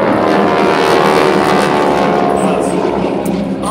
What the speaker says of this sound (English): Planes are flying over.